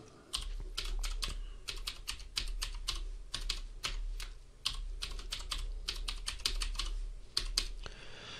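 A password being typed on a computer keyboard: quick irregular bursts of close, crisp key clicks with brief pauses between runs, continuous over several seconds.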